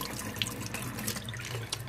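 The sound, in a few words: tap water rinsing grease off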